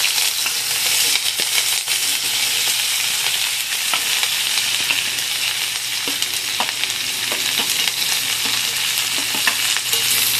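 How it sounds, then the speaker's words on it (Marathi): Onion frying in hot oil for a Makul mutton masala, a steady continuous sizzle with faint stirring clicks, close and loud throughout with no talking. "तर तेल गरम झालंय. पहिला कांदा परतून घेऊया."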